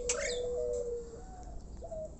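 Several starlings (jalak) in a bird-keeping setting give a sharp high call, then long whistled notes and a later shorter whistle, close and clear with no talk.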